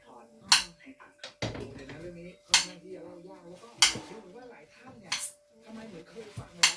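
Sharp knife strikes on a cutting board, several irregular chops spaced about a second apart, with soft clinks and a faint steady hum between them.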